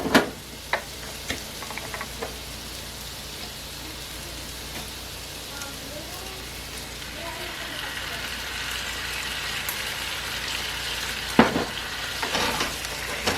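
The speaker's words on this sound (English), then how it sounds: "I'm going to go ahead and put my sauce in here. This is just home canned tomato sauce from last year." Home-canned tomato sauce goes into a hot pan with herbs, giving a soft, steady sizzle that swells midway, with occasional utensil clicks.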